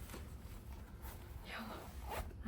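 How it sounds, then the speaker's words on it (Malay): A small zipper inside a compact storage pouch is drawn open in a couple of short, close rasping pulls while a person talks quietly during an unboxing of a DJI Mic Mini. "Lepas tu ada zip lagi dalam ni."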